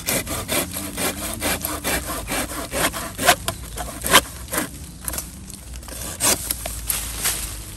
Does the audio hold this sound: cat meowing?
no